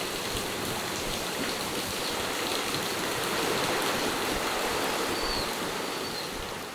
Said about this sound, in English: just hearing the waves and stuff, and they're kind of echoing through the valley and stuff as they like hit against things